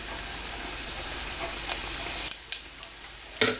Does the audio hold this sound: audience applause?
no